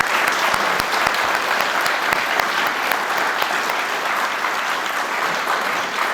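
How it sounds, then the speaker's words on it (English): A tourism conference audience applauds with steady, dense clapping from a large crowd that fills the room at an even level for several seconds, without speech. "give them a little bit of round of applause for their hard work"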